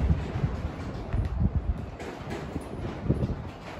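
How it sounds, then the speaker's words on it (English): Strong wind buffeting a microphone at an abandoned racetrack in the countryside, loud rumbling gusts that rise and fall unevenly over a few seconds, with no voices. "And the wind is going nuts."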